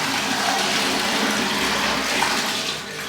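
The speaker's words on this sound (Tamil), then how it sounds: "ஃப்ளஷ் டேங்கில் ஊற்றியாச்சுடா தண்ணியை" Water gushes steadily into a toilet flush tank, a loud continuous splashing rush that tapers slightly near the end, with no talking.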